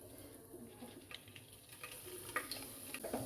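A bay leaf and a piece of cinnamon fry in oil for chicken biryani, giving a quiet, continuous, fine crackle with soft stirring taps, heard alone at low level.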